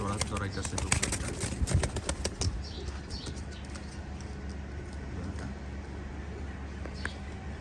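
A Pakistani high flyer pigeon scurries about, wings flapping in a few sharp bursts early on, then quieter shuffling, with a voice talking nearby.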